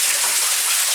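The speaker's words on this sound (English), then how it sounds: "Good amount of water coming down right there." Water pouring down a flooded mine shaft, a steady, loud broadband rush that continues without a break and has no voices over it.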